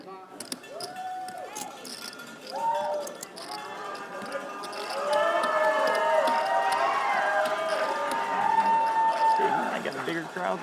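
A lively crowd cheers and shouts at a WPT Choctaw poker final table, with whoops swelling louder and more sustained in the second half, while people talk throughout.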